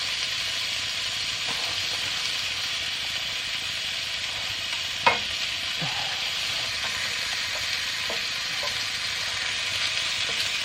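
Buttered noodles frying in a pan at a campsite, giving off a steady broadband sizzle throughout, with a sharp clack partway through and a few faint utensil taps.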